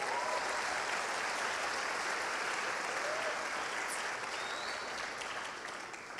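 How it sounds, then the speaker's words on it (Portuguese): A church congregation applauds steadily, a dense sustained wash of clapping from many hands that fades slightly toward the end. "Aplauda ao Senhor Jesus."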